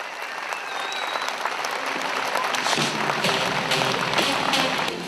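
Sustained applause from a crowd at a strongman competition, steady and dense throughout, with scattered claps standing out near the end.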